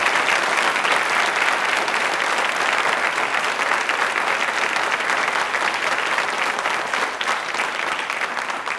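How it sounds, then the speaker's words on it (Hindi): Loud, dense applause from the audience at a televised Hindi quiz programme for Rajbhasha Hindi Pakhwada, a continuous roar of clapping that stays strong and even throughout. "तालियां वापस से हम सबके लिए एक बार जोरदार होनी चाहिए"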